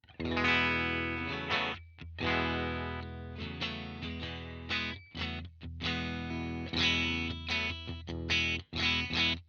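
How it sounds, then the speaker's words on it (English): An electric guitar, a Telecaster with Fender Pure Vintage 52 pickups through an Electro-Harmonix POG2 octave pedal, plays sustained chords and riffs through a thick, effected tone, with choppy phrasing and short pauses between passages. "here's what that sounds like with my Telecaster with Fender Pure Vintage 52 pickups"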